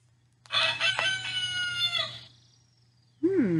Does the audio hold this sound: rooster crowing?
yes